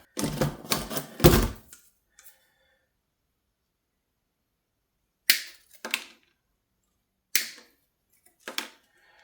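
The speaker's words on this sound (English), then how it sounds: "what I'm going to do is probably trim them down so that everything is kind of straight" Wire cutters trimming car stereo wiring for a Honda Civic and CRX install: a quick run of sharp snips at the start, then three separate crisp clicks later, each followed by a smaller tick, with silence between.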